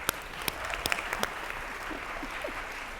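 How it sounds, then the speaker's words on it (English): Applause from a South Florida audience at an HR event, with scattered sharp claps at first settling into a steady moderate patter of clapping across the room. "Please give a nice, warm South Florida round of applause for Morag Barrett."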